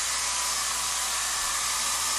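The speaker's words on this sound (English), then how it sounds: "I've got a hairdryer over here" A hair dryer blows steadily with a loud, airy whoosh and a faint motor hum, constant and close throughout.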